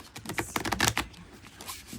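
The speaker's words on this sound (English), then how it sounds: "this is one of those decks that's a little bit challenging to shuffle. I do like to really shuffle." Golden Black Cat Tarot deck being shuffled by hand, a quick run of crisp card riffles and slaps clustered together, close and fairly loud, then fading to quieter handling.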